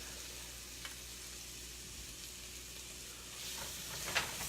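Quartered artichoke hearts hit a hot pan and fry with a continuous close sizzle, swelling slightly toward the end with a few faint scrapes and no talking.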